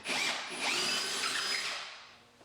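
A power drill whirs loudly at high speed, counterboring holes through plasterboard with a larger-diameter bit before winding down, close by and with no voices.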